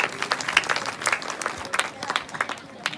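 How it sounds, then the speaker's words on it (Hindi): Scattered applause from an audience at a Chhattisgarhi comedy Ramayan stage show, with uneven, loose clapping at moderate level and crowd murmur beneath. "एक बार जोरदार ताली हो जाइए"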